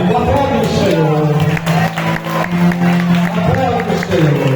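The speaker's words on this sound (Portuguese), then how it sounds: "Aplaude o Senhor." A church congregation at an anniversary service in Itapetinga, Bahia, applauds in a steady, dense roar, while a voice, sung or spoken loudly, rides over the clapping throughout.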